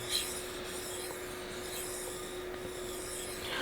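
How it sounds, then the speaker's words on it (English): Straight razor being honed on an Aotoshi 2000-grit green brick water stone, giving a steady, close wet rasping and rubbing throughout, with no talk. "I'm not watching my edge too much here, just kind of enjoying the feel of the stone, getting used to it."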